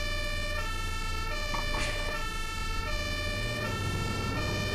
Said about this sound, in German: der Rettungswagen fährt die ganze Zeit im Kreisverkehr